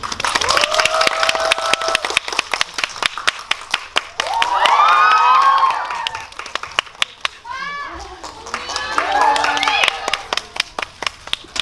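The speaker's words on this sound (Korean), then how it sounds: "여러분들 큰 박수로 김고은 배우를 맞아주시기 바랍니다" Audience applause welcoming actress Kim Go-eun on stage at a Korean film festival screening event in a Seoul cinema hall, a dense patter of clapping swelling and fading across the clip, with a host speaking over it at times.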